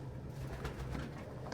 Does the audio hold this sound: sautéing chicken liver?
no